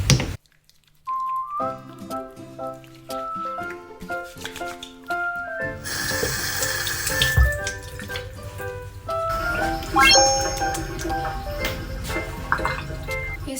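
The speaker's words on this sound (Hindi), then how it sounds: "इस फेशियल क्लींसर अपने हाथों पर रखाकर और पानी के साथ मेरे चेहरा धोती हूँ।" Tap water runs and splashes while a face is washed with facial cleanser, steady running water with drips and splashes, soft background music underneath, no talking.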